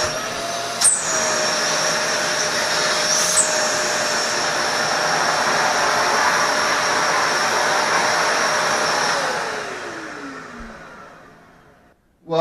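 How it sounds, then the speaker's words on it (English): A Karcher WD4 wet dry vacuum runs with a steady, fairly loud whine and rushing airflow for about ten seconds, with a click near the start. The motor then spins down and fades, and a clunk follows at the end. "I'm very happy with the noise level for a wet dry vac."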